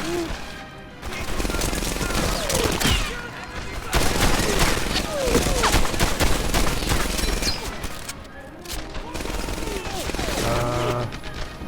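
A Thompson submachine gun firing in Medal of Honor: Airborne, loud rapid bursts of automatic fire repeating through the stretch amid other gunfire and battle clatter, with short lulls between volleys.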